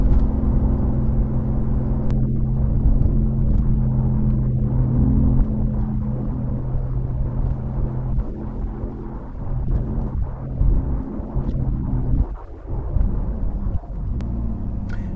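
A BMW i8 driving normally on the road, a steady low cabin rumble of motion and road noise that swells and eases slightly, with no voices.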